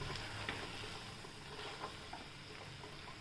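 Spinach, potato and green peas sautéing in a pan, giving a soft continuous sizzle broken by light stirring scrapes and clicks, close and fairly quiet.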